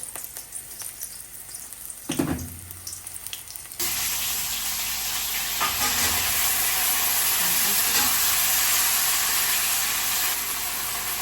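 Chopped onion and bay leaf go into a pan of frying fish, and from about four seconds a loud, steady hiss and sizzle takes over, following a thump as they land.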